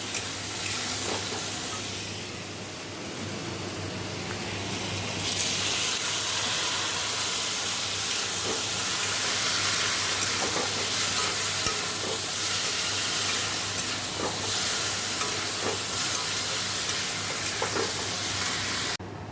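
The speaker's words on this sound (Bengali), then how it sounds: "জিরে ধনে কাশ্মীরি লঙ্কার গুঁড়ো দিয়ে দিলাম একটু জল দেবো জল দিয়ে ভালো করে কষিয়ে নেবো" Cumin, coriander and Kashmiri chilli powder masala sautés in a pan with a little water, giving a steady loud sizzle and hiss with intermittent stirring scrapes throughout.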